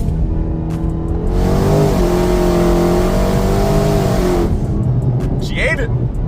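A car on Mickey Thompson ET Street R tires accelerates hard in second gear, its engine roaring loud and close with a rising then steady pitch, and a voice is heard over the noise.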